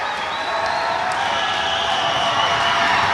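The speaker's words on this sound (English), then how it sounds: "Crowd gets loud." A crowd at a boys varsity basketball game between Taunton and Attleboro rises in a sustained roar of cheering voices before free throws, loud and steady, growing slightly toward the end.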